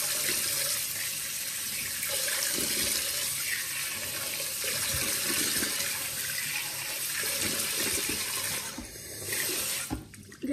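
Tap water runs steadily into a sink during face washing, a continuous close splashing rush that carries on throughout and dips briefly near the end.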